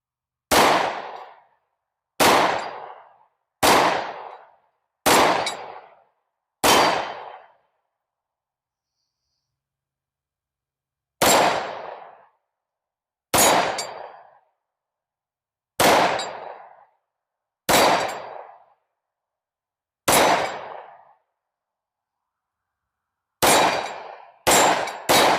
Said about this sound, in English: let's shoot the last 15 rounds out of that box just to make sure they all run well.